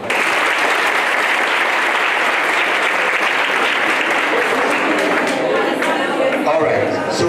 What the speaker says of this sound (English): If you agree with me, let's give a clap.